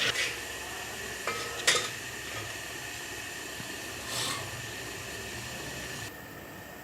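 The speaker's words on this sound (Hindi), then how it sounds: "अभी ब्राउन हो रहा है प्याज।" Onions brown in a pan while a utensil stirs and scrapes against the metal, giving faint clinks and scraping over a steady background hiss, with no talk.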